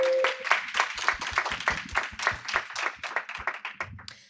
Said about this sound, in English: I hope we can meet him with an applause